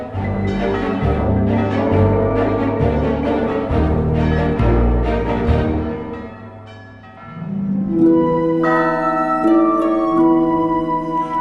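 Large bells ring in overlapping, resonant peals, loud and close, with long ringing tones that swell, dip briefly, then return brighter.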